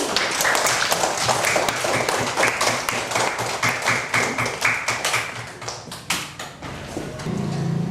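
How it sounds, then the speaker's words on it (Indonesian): A classroom group claps together in a steady burst of applause, the pattern loosening into rhythmic, slightly uneven claps before fading near the end. "Tepuk tangan untuk Reti."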